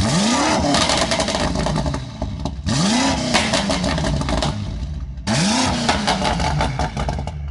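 Modded BMW M5 engine with downpipes and a tune revs hard three times, each run rising sharply then crackling and popping on the overrun, loud and close with no talking.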